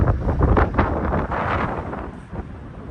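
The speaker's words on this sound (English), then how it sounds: "It's so windy." Strong gusts of wind buffet the microphone at a winter lookout on the Icefields Parkway, producing loud rumbling bursts and rushing noise that rise and fall throughout.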